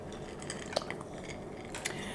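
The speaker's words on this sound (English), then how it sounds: "Got to get this peanut butter to incorporate a little bit. It's a lot of stirring." A utensil clinks and scrapes against a dish while peanut butter is stirred into overnight oats, soft irregular taps over a quiet background.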